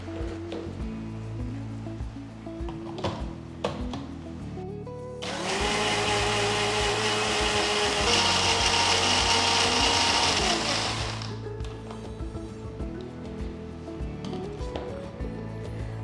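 Mixer grinder grinding grated coconut into a smooth paste runs loud and steady for about six seconds, then winds down, with quieter kitchen clatter before and after.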